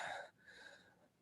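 A voice imitates panting, a short breathy huff that fades quickly into quiet.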